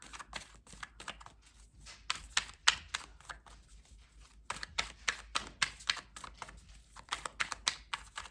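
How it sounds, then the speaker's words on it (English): Puppies moving about a kitchen floor, giving a run of light, irregular clicking taps and scuffles, close and fairly faint, with no talking. "They're walking around in the kitchen."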